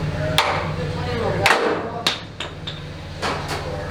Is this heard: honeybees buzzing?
no